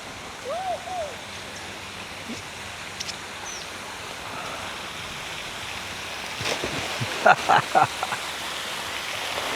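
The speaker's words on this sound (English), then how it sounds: "Jacob, they turned the water back on" Water pours down steadily from a big barrel overhead, a continuous rushing splash close by, with a few brief voices near the end.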